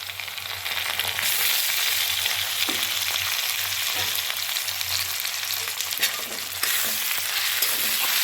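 Ginger garlic paste fries with softened onions in a pan, giving a loud, continuous close-up sizzle with occasional stirring scrapes and no voices.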